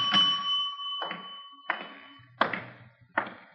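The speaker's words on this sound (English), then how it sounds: "Nobody at the desk. I'll ring the bell." A hotel front-desk bell in a radio drama, a bright metallic ding followed by several softer taps and thumps spaced about a second apart, close and distinct.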